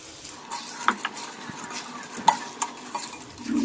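A spoon stirs dates, jaggery, gond and makhana in a pan, producing scraping taps and a soft sizzle in short irregular strokes, fairly close and with no voices.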